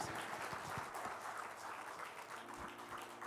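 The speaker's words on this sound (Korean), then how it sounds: "우리 하나님께 영광의 박수 올려드리겠습니다." A church congregation claps together in a short burst, a soft, even patter of hands heard faintly from a distance.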